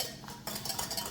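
A whisk stirs instant pudding mix into milk in a bowl, with quick clinking and swishing strokes, close and fairly quiet.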